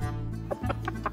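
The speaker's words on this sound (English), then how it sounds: "Chicken." Chicken clucking on a farm, a few short soft clucks over a steady low background hum, fairly quiet and brief.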